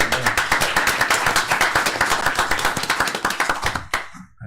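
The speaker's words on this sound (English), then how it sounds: "So let's give yourself a round of applause." Applause from attendees at a city commission meeting, rapid sharp clapping from a smallish group close by, steady and loud before cutting off abruptly near the end.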